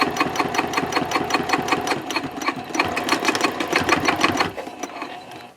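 A sewing machine stitches Cordura fabric for a trifold wallet in a fast, even run of needle strokes, close and loud, then slows and stops near the end.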